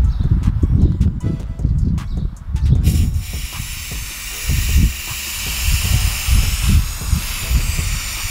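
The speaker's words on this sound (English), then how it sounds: "now I'm going to spray the paint into the water and then dip my shoes." Spray paint cans hissing into water for hydro dipping a pair of Vans shoes, with short bursts followed by longer sustained sprays, close up, over soft handling knocks and bumps, no talking.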